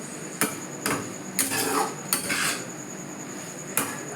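Pasta tossed with sauce in a pan gives a few sharp metal knocks and scrapes of a utensil against the pan, spaced irregularly over quiet background noise.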